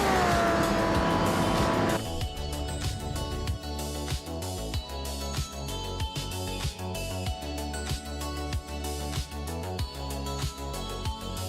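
A race car on a victory lap at Circuit Assen in a racing video game, its engine roaring loudly at first, then pulsing steadily through rhythmic gear changes and revs.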